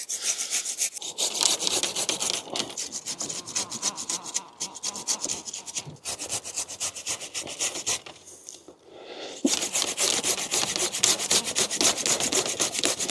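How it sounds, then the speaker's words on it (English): A hand saw cuts through willow shoots during pruning: rapid rhythmic rasping strokes, close and loud, with brief pauses between cuts and a louder final burst, no voices. "So these smaller ones again, no need for an undercut. I can just cut them off by hand."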